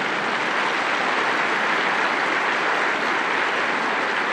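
Crowd clapping at an annual meeting, a steady, dense wash of many hands applauding evenly from a large assembly, with no voices.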